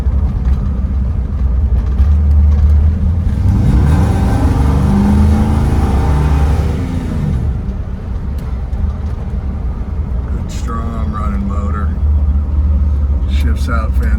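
A 1958 Chevrolet Impala with a fuel-injected engine rumbles loudly on a test drive, a constant low drone that swells and eases as it accelerates, with someone talking over parts of it.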